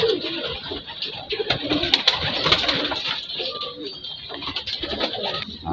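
Racing pigeons coo steadily in a loft, several birds overlapping in soft throaty calls with a few sharper notes and wing rustles, fairly close and continuous throughout.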